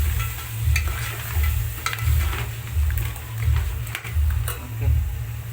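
Lobster and potato pieces frying in oil with turmeric for an Agri Koli curry are stirred in a pan, rhythmic scraping strokes over a steady close sizzle.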